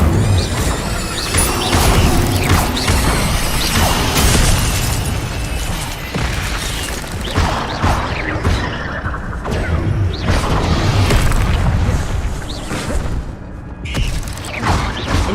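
Incendio fire spells are cast in Hogwarts Legacy, with repeated bursts, crackling blasts and crashing impacts layered over a dense, loud roar of game effects that runs throughout.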